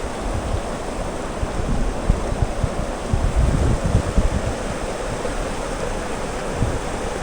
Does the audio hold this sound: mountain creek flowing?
yes